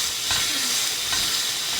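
Bacon frying in a hot pan gives off a steady, close sizzle with fat spitting and crackling throughout, a dense continuous hiss with small pops and no talking.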